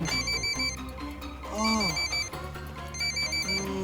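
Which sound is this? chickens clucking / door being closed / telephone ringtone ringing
telephone ringtone ringing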